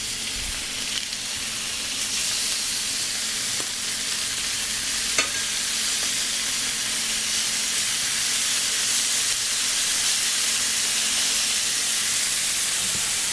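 Pork chops browning in a pan give off a loud, steady sizzle and hiss that holds evenly throughout, with a couple of faint clicks and no voices.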